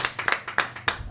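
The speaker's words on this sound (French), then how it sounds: "On peut l'applaudir, s'il vous plaît." A small audience claps for a guest on a French variety show, giving a short burst of irregular, close hand claps that rise and fall quickly, with no talk over them.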